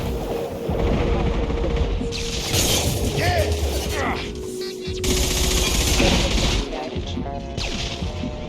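Video game gunfire from Mass Effect Legendary Edition crackles in dense rapid bursts with crashes and booms, mixed with voices and game sounds through a busy combat scene.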